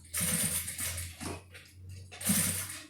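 A sewing machine stitching a tote bag pocket, whirring in two close, steady bursts with a short mechanical pause between them.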